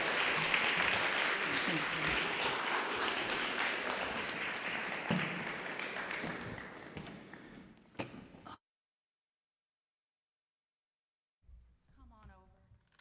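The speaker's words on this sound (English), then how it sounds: "let's give a round of applause for Stephanie" Church congregation applauding for Stephanie at a Sunday service, a dense wash of clapping for about eight seconds that fades and cuts to silence, followed by a brief voice.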